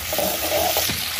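A fish curry cooks in a pan with red chilli, giving a steady close frying sizzle with spoon stirring scrapes throughout, alone without voices.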